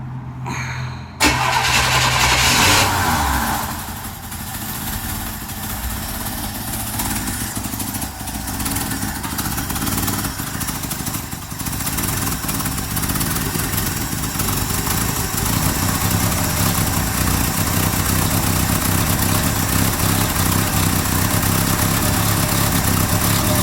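A 1963 Chevy Nova with the 194 engine fires on a cold start after a brief crank, then settles into a loud, steady, slightly uneven idle that runs on close by with no talk.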